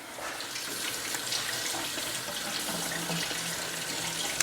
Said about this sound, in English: And then I can also rinse it.